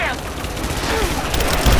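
Gunfire in the video game Rise of the Tomb Raider, a loud sustained burst of rapid shots and booming impacts under heavy game background noise.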